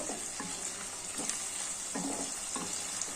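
Onions and chillies sizzle in a pan over a low flame, a constant close frying hiss broken by regular stirring scrapes about every half second, with no speech.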